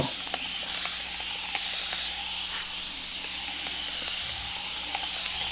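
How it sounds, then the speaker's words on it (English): Spray bottle misting fluid onto the red quilted fabric of a Cepher cover, a steady close hiss held for several seconds with faint ticks and a low background hum. "give it a good spray down here"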